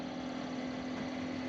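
A truck engine idles with its exhaust muffler rusted off, giving a steady, loud, even drone with a constant low hum and no break for the whole moment, no voices.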